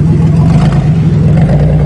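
An old Buick reverses with its engine revving loudly and close by, a strong low hum with a whirring, clattery texture under it and no talking.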